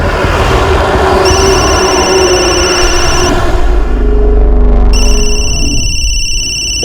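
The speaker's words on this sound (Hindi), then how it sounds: "फोन उठाओ संजय, शायद उन्हीं का हो सकता है।" A telephone rings in a Hindi crime drama scene, its electronic ringing tones repeating steadily and fairly loud, pausing briefly and then resuming, with no talk over it.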